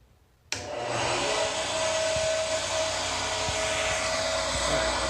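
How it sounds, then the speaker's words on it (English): Table saw with a carbide-tipped blade switching on after a quiet moment, jumping abruptly into a loud, steady whirring roar with a constant high tone that holds evenly to the end. "All right, turn on the saw."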